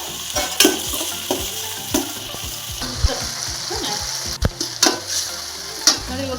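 Three tomatoes frying in a browned oil tempering for a fenugreek-leaf stir-fry, with a steady sizzle and repeated sharp scraping stirs across the pan, close and fairly loud.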